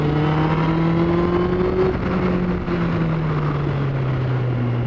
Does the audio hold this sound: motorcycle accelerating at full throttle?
yes